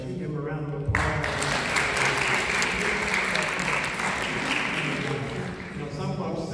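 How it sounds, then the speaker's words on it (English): Loud, steady applause from an audience at a hypnotism show, rising sharply after a brief moment of talk and continuing dense and even throughout. "Give them a round of applause."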